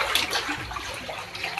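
Water sloshes and splashes as someone wades through chest-deep water inside a cave, with irregular close swishing surges over a short moment, no voices.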